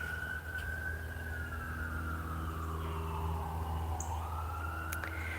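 Emergency sirens wail in the distance, rising and falling slowly over a low steady rumble of traffic.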